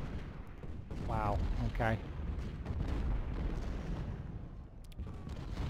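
Artillery salvo in the Civil War strategy game Ultimate General: Civil War, a rumbling barrage of booms under continuous battle noise while someone talks briefly over it.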